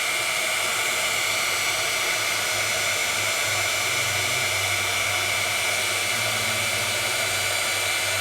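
A craft heat tool blows hot air to melt transparent embossing powder, a loud steady hair-dryer-like whoosh that holds constant throughout.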